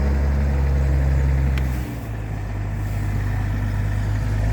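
A tractor pulls a Lemken Diamant plough across a dry field, its engine a steady, loud low drone that holds throughout with only a slight dip midway, and no voices.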